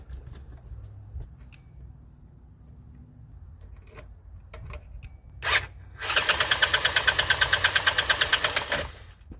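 A 2006 Jeep Rubicon engine with low compression is cranked by the starter. After a short burst, a fast, even, loud chugging rhythm runs for about three seconds and the engine never catches.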